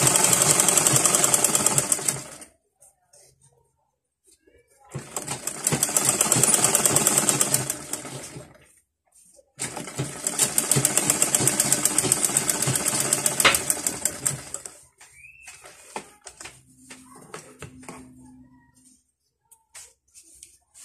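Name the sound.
sewing machine stitching a zippered pillowcase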